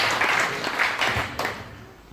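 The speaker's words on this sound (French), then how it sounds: "je vous demande de l'applaudir encore" Audience applause at a political speech in La Ravine des Cabris, Saint-Pierre, rising in brief bursts of clapping over a few seconds before fading, fairly distant with some crowd murmur.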